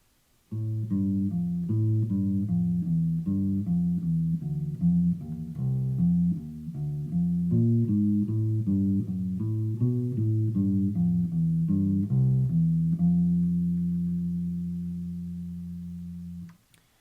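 A bass line walks in steady quarter notes beneath other instruments, then settles on a long sustained final chord that fades out.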